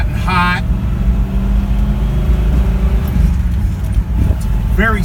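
The engine of a stock Pontiac GTO rumbles as the car drives around the block, a loud, steady low drone heard from inside, with a voice breaking in briefly at the start and near the end.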